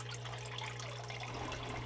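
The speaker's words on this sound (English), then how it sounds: "Making sure we got enough water flow going through the sluice" Steady water rushing through a DreamMat Micro Pocket Sluice, a small gold-prospecting sluice, with continuous broadband flow and a low hum underneath, close and constant, no voices.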